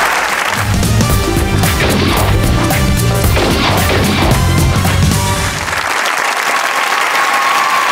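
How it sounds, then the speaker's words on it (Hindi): Studio audience of a comedy talk show clapping loudly over loud music with heavy beats, then the music carries on after the clapping thins. "तालियां"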